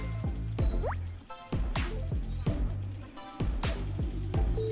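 Washed vegetables drain in a home kitchen, with water dripping and trickling in quick repeated patters, close and fairly clear over a steady background.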